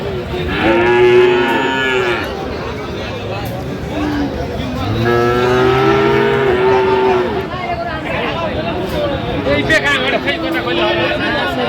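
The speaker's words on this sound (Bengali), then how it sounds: "এখানে বেশ সুন্দর বাচ্চা ফ্রিজিয়ামের ষাঁড়" A young Friesian bull calf moos at Aftabganj cattle market in Dinajpur, with several long, loud bellows rising and falling over busy crowd chatter and an occasional distant horn.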